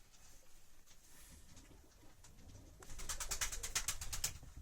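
Pigeons in a winter coop with nesting squabs cooing softly and intermittently, rising into a louder burst of wing flutters and rustling near the end, heard close with no talking.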